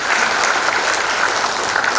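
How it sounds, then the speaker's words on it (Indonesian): An audience applauds the graduating class at a nursing academy graduation and oath ceremony in Jakarta. The clapping is loud and continuous, a thick, steady roar of many hands in a large hall with no talking over it. "Tepuk tangan untuk para lulusan Angkatan"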